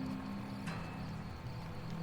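Horses in a video game, steady clip-clop of hooves trotting at moderate distance, faint and continuous with a soft tonal hum underneath.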